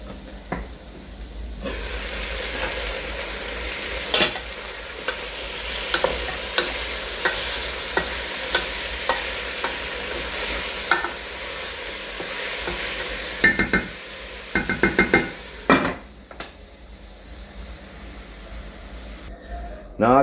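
Brown stew chicken sizzles loudly in a pot after peppers and other ingredients go in. A steady frying hiss runs throughout, with spoon-and-pot stirring knocks scattered across it and a voice heard now and then.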